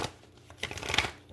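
Tarot cards are shuffled by hand in a short, soft riffle with papery flutter and light slaps, close and quiet with no talking.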